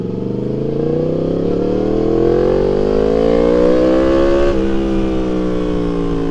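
A Yamaha MT-10 motorcycle engine roars loud and close at full throttle, pitch climbing steadily, then dropping sharply as it shifts or eases off.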